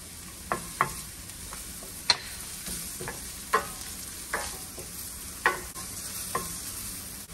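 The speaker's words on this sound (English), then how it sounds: "Now I'm going to add some chopped garlic." Chopped garlic frying in a pan with onions for a pumpkin fish stew, a steady soft sizzle broken by about ten sharp clicks of stirring spread across the clip, with no talking.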